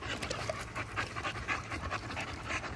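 American bully dogs pant steadily outside in hot weather, a rhythmic breathy huffing that stays close and fairly loud throughout, with no talking.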